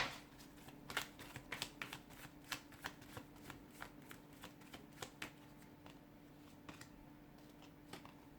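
A deck of tarot cards is shuffled by hand, giving a quick series of crisp riffling flicks and soft card slaps, close and fairly quiet, with no talking.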